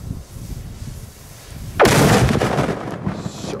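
A heavy firework cake called Gold goes off outdoors in freezing cold, a loud crackling burst of explosions that erupts after a low rumble and continues as dense popping.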